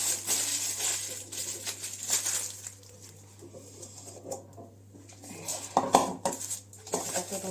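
Dishes and cutlery clink and clatter in irregular bursts as rotis are packed into a hotpot and lunch box, close by, over a faint steady hum.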